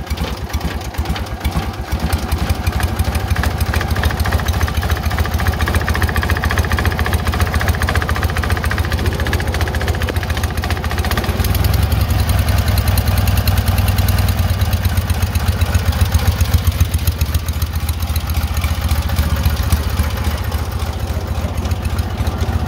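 An old Cub 782 garden tractor engine runs steadily at a low, throbbing idle with a constant knocking pulse, loud and close throughout with no talk.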